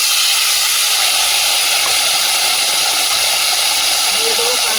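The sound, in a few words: vegetable stems and potatoes added to hot oil, sizzling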